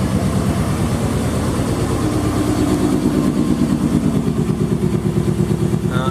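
A GMC 3500 truck engine idles close by with a rapid, steady chugging putter and a ragged, puffing exhaust note from a leak at a warped exhaust flange, loud and continuous throughout.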